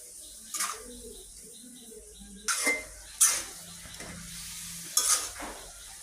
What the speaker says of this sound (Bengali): মরিচের গুঁড়া দিয়ে সুন্দর করে নাড়াচাড়া করে নেব।